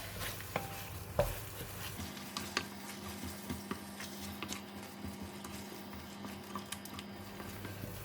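Green curry paste simmers in coconut milk for a Thai green curry laksa, giving a quiet, bubbling sizzle with occasional soft stirring taps and a low steady hum underneath.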